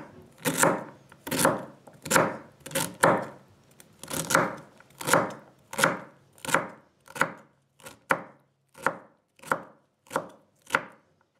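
A knife chops through the white stalk base of a large celery bunch on a cutting board, about seventeen crisp, evenly spaced strokes, close and clear with no talking.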